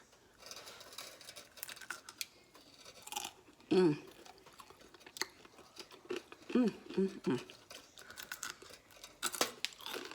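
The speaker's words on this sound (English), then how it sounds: "Can you hear that crunch?" Crisp crunching bites and chewing of mustard-fried catfish nuggets close to the mic, irregular bursts between quieter moments, with a few brief vocal sounds.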